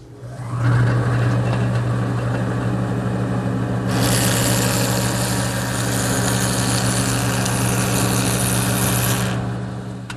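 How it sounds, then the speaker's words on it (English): A jointer with its fence tilted to 15 degrees bevels the edges of stile and rail pieces, a steady motor hum joined midway by a loud hissing cutterhead rush for several seconds as wood passes through, then easing back. "I've set up my joiner, and I've tilted the fence to 15 degrees, and now I'll run the pieces through"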